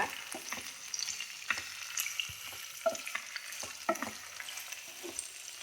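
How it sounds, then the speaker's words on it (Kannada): Onion lightly fried in a pan for a chana and moong dal kosambari, a soft crackling sizzle broken by frequent quick spoon scrapes and taps, close and without talk. "ಈರುಳ್ಳಿ ಅದಕ್ಕೆ ಸ್ವಲ್ಪ ಫ್ರೈ ಮಾಡ್ತಾಯಿದ್ದೀನಿ"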